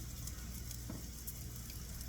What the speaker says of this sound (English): I've got them in my pan of frying there.